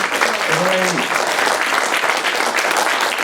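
Audience clapping at an Italian lecture on territory and its future: a dense, even wash of hands from a large room, with a brief voice heard near the start.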